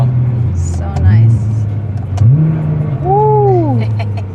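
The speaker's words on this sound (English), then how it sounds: "Once you get on it and it just starts to like pull, it's way more aggressive. Those downshifts though." A Nissan GTR with an aftermarket exhaust blips through quick downshifts, each throttle stab a rising growl, then pulls hard under acceleration with a loud, swelling engine note heard up close.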